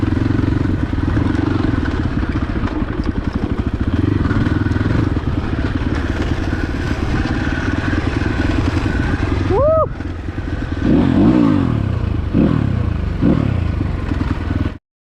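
A new Crossfire RM250 dirt bike rides hard off-road on a trail, its engine droning loud and steady with clatter and thumps from the rough ground, briefly dipping and then surging again near the end.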